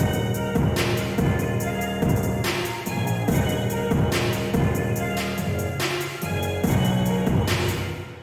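A looping beat plays with punchy drums and chords washed in a roomy chamber reverb on the master that smears each hit into a lingering tail.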